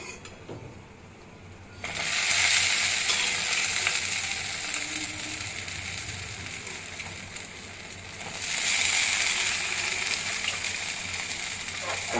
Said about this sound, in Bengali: রসে দেওয়ার পরে একটুখানি হাতা দিয়ে নাড়িয়ে দেব রসটা, তাহলে তাড়াতাড়ি ঢুকে যাবে।